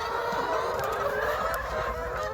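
Young laying hens, pullets only a month or two into laying, cluck and murmur together in a dense, continuous chorus that stays close and steady throughout.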